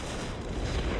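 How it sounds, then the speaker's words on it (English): Explosions in the Dawn of War strategy game erupt in a brief, dense burst of booming blasts and crackling gunfire, loud and continuous for about a second with no talk. "Beautiful purple explosions."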